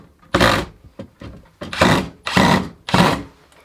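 A power drill drives Phillips screws into an electrical subpanel in four or five close, loud whirring bursts separated by short pauses, with faint clicks between runs.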